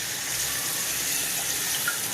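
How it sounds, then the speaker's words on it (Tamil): Water pours steadily into a cooking pot in a continuous gushing stream, close and fairly loud, with no talking. "கொஞ்சம் தண்ணி கூட ஊற்றிக்கலாங்க கழுவி"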